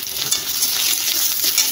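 Panch phoron spices crackle and sizzle in a hot karahi with dried red chilli and ginger, a dense continuous hiss with small popping bursts, close and loud with no talk.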